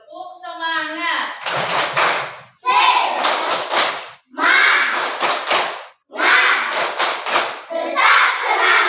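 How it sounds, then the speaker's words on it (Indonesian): Students in an elementary Catholic religion class perform a rhythmic 'tepuk semangat' clapping routine, loud patterned clap bursts in four groups separated by short pauses, with children's voices chanting along between and over the claps. "Baik, tepuk semangat."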